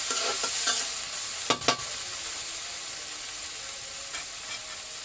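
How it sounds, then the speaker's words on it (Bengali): Ground spice paste being stir-fried in a pan while cooking prawns with Malabar spinach: a steady bright sizzle, a couple of sharp scraping knocks from the spatula near the middle, and softer stirring scrapes later, with no talking. "এখন দিয়ে নিচ্ছি বাটা মশলাগুলো বাটা মশলা দিয়ে আমি ভালো করে কষিয়ে নেব"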